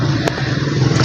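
A motorcycle drawing up nearby, its engine rumbling steadily with a brief sharp clatter early on and a slight rise toward the end, fairly close and loud, with no speech over it.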